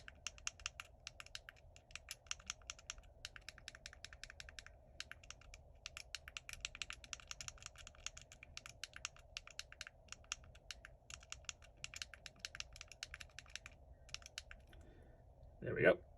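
A username typed on a computer keyboard while a Hak5 WiFi Pineapple Pager lookup tool is set up: a long run of quick, steady keystrokes at close range, pausing briefly near the end before a louder thump.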